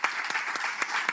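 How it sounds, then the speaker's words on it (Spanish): Audience at a panel on dictatorship versus democracy in the Americas breaks into steady clapping for a speaker, a dense patter of many hands with a few sharper claps standing out. "Un aplauso para Carlos."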